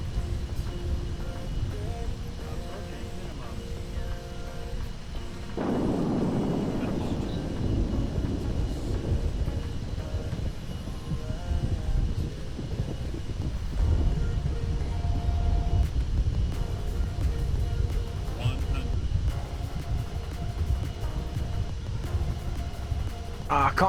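A low, rumbling aircraft engine in modded Kerbal Space Program drones steadily for the whole stretch, with a brief whooshing surge near the start, and no speech over it.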